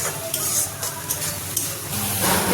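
Spiced masala with turmeric and Kashmiri chilli powder sizzles in a hot pan while a spatula scrapes and stirs in irregular strokes, close by and without speech, the frying hiss swelling toward the end.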